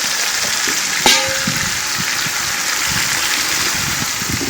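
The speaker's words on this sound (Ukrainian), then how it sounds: "Зараз обсмажуємо цибулю" Onions frying in a pan for Georgian ojakhuri, with bell pepper already in, giving a steady loud sizzle broken by scraping stirs and one sharp metallic clink early on.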